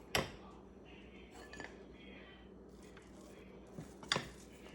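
A knife scrapes and clinks against the dish while cutting a freshly baked four-ingredient breakfast casserole, with faint separate metallic taps over quiet background and soft talking.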